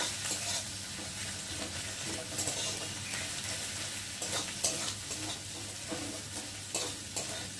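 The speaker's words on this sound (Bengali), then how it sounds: "তার জন্য আমি রসুনটাকে ভালো করে আগে ভেজে নিচ্ছি।" Garlic fries in hot oil for a Bengali salted bhetki fish curry, a dense, even sizzle with repeated spoon scrapes and stirring clatter close up, and no speech.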